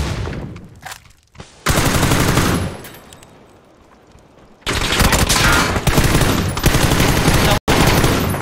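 Video game gunfire rattles in long, loud automatic bursts, with a quieter gap between volleys and a brief cut before the last burst.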